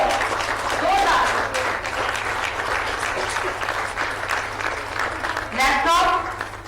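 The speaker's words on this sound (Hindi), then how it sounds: "आपकी जोरदार तालियां हर बार हो, जोरदार" An audience at a Jharkhand welcome ceremony for hockey players breaks into loud, sustained applause that swells and eases over several seconds, with a voice briefly audible over the clapping.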